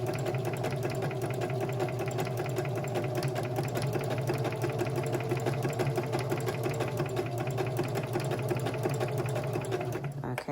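A sewing machine runs steadily for the whole stretch, stitching fabric to gather it with floss, a fast even mechanical whir and rapid needle clatter that stops abruptly at the end.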